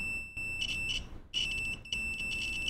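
Continuity beeps from a multimeter during SMD soldering practice on a Kijimi build kit, a shrill steady tone broken into several bursts with crackly, unstable interruptions as the probe tips touch, loud and close with no talking.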